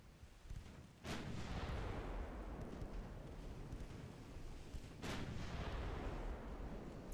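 Naval secondary guns firing in the Ultimate Admiral Dreadnoughts naval warfare game, two booming shots a few seconds apart, each followed by a long rumbling roar, heard over faint background noise.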